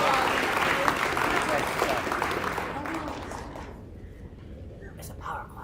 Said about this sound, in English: It's a power clap.